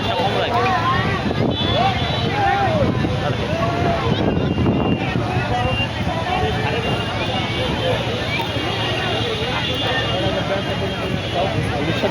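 Gusty wind from a nor'wester storm near a boat in Bhola roars as steady loud buffeting against the microphone, with people talking throughout over the blustery noise.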